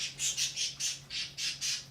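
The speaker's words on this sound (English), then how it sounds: "These birds are going to have a permanent rest in a moment if they don't shut up." Birds squawk loudly and close by, eight harsh calls in quick rhythmic succession with almost no gap between them.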